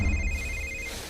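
A telephone rings once in a short, steady electronic trill over a low background hum, with no voices.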